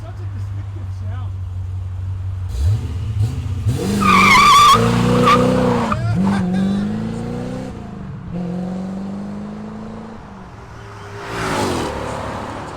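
A C4 Chevrolet Corvette with a 5.7L V8 and Flowchaser exhaust revs hard nearby, its engine note climbing and falling in bursts, with people talking over part of it.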